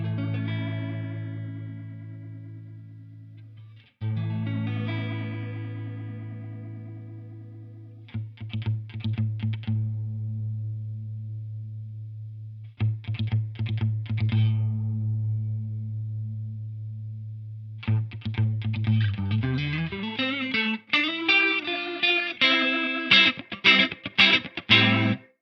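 Electric guitar played through a Carl Martin Axis Flanger pedal while its pre-delay is adjusted: long sustained chords ring out, then sparse strummed bursts give way to rapid, swirling strummed phrases with a sweeping, jet-like modulation, played alone without talk.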